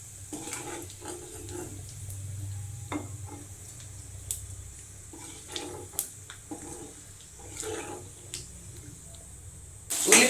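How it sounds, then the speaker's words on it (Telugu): Onions and curry leaves frying in oil in a pan, a soft steady sizzle with intermittent scraping stirs and light clatter, close by, ending in a sudden louder burst, no voices. "ఉల్లిపాయలు వేసాను కరివేపాకు వేసాను ఇది వేగాక"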